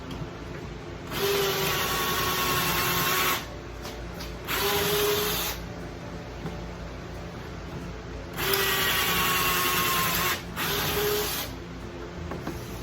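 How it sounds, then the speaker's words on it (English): A power drill drives screws into boards in several bursts of a couple of seconds each, with short pauses between, close and loud. "Just flip it, center it, secure it, and drill."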